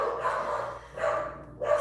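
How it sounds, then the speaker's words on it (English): Several pet dogs bark at a UPS delivery man at the door, loud and frantic indoors. Three rough bursts of barking come in quick succession with a short lull between them. "So they're gonna bark like crazy for a moment, and we're just gonna wait it out."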